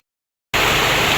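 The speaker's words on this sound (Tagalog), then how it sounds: "Yan po at nalakas na po yung ulan." Heavy rain falling outside a house, a sudden dense hiss of steady downpour starting after a moment of silence, loud and close with no voices.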